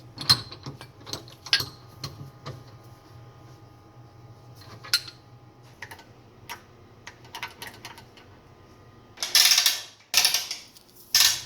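A bench vise is cranked, producing scattered metallic clicks and ratcheting ticks at an uneven pace, followed by a few louder bursts of hissing noise near the end, with no talking.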